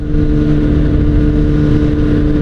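A Kawasaki Ninja ZX-6R sport motorcycle's four-cylinder engine running close by, a smooth, steady high-pitched hum with a buzzing edge.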